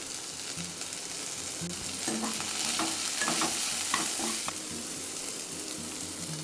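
Onion, capsicum and green chilli fry in a pan for chicken fajita rice, giving a steady close sizzle with repeated scraping stir strokes and no voices.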